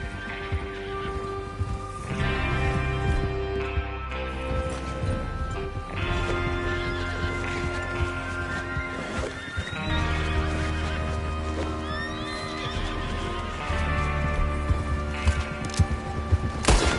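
Horses whinny repeatedly over a steady rumble of hooves galloping, with loud, dense sound effects from the video game Red Dead Redemption and no talking.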